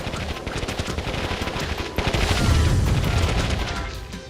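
Dense machine gun fire in the real-time strategy game Warzone 2100, with improved bullets, rattling continuously with heavy low booms swelling midway through a busy battle mix.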